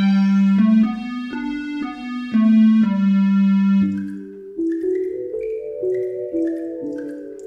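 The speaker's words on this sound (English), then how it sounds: "Here's some synthesizer sounds." Synthesizer sounds played on a computer: a sustained low tone with rich harmonics steps through a simple melody, then shifts to brighter, plucked-sounding notes with a second higher line, steady and fairly loud with no voices.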